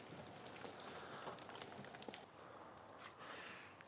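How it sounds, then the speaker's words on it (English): Steady rain patters outside, a dense, quiet hiss with scattered drops, no voices. "It's obviously raining outside"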